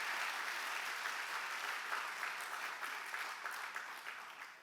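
Sustained applause from a sizable church worship congregation, steady clapping that holds for several seconds and tapers slightly at the end.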